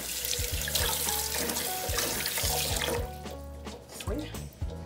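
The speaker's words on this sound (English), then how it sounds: "Put a little cold water" Cold water runs from a kitchen tap in a strong steady stream, splashing into a sink, then thins out as the flow drops, with a voice speaking over it.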